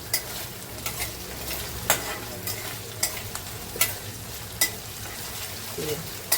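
Onion roasting in a pan, a continuous sizzle with regular metallic scrapes and taps of a spatula about once a second, close and fairly loud.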